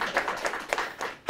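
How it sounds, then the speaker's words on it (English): A seminar audience clapping early, a short scattered burst of applause from a modest crowd that fades out after about a second. "That's a little bit of a premature clap there, because I have not finished yet."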